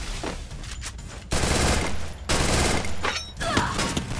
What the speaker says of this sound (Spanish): Miren cómo revienta esa escopeta.